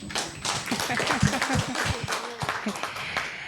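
Audience at a tax appeals tribunal users' forum clapping, a brief burst of distinct hand claps close by, with some voices mixed in.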